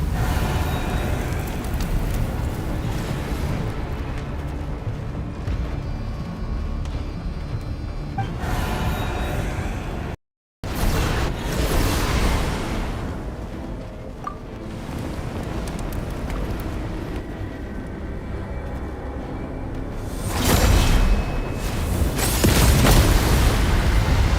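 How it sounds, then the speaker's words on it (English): Roaring fire and booming explosions in the video game Genshin Impact, a loud, continuous rumbling blaze with a sudden brief cutout midway and a heavier surge of blasts near the end. "Oh no, there's a fire!"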